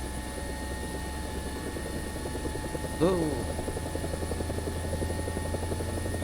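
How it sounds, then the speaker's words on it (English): A helicopter in the War Thunder simulator lifts off and flies, its steady rotor and engine drone running loud throughout, with a brief higher swooping whine near the middle and a short spoken exclamation over it. "I've never flown a helicopter before"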